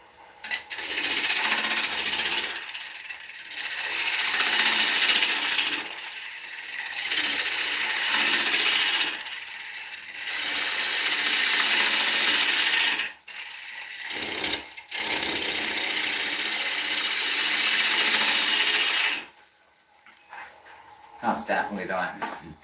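Oak spinning on a wood lathe under a 3/8 gouge, giving loud, steady scraping cuts in passes of a few seconds each, split by short pauses and ending in quieter, lighter touches.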